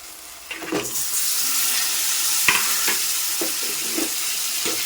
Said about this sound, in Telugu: నీట్గా కడిగి పెట్టిన చికెన్ అయితే వేస్తాను